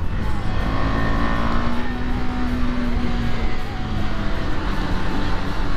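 A KTM Duke 390 motorcycle racing alongside another bike on the road, its engine a loud, steady drone close by, with rising and falling pitch as the rider works the throttle and wind noise throughout.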